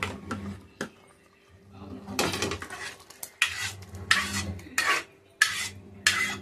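Cooked lentils mashed inside a pressure cooker for sambar, heard as rhythmic metallic scrapes and thuds of a utensil against the pot, a series of bursts growing louder toward the end.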